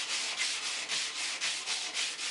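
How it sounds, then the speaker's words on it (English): Sandpaper rubs by hand across a carved wooden stool seat, making close, rhythmic back-and-forth rasping strokes, with no talking. "there's just a little bit of sanding"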